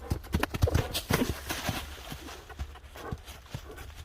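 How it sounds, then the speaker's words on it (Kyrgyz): A horse's hooves clip-clop close by in an uneven run of hard knocks, loudest at the start and thinning out, with no talk over them. "Мынакей атты көрүп турасыздар туугандар"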